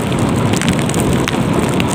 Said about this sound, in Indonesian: hujan pada pagi hari ini